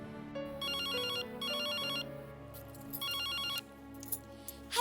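Telephone ringing in a Hindi TV serial home scene, three bursts of a bright electronic ring with pauses between, clear and fairly near over a soft music bed, no talking.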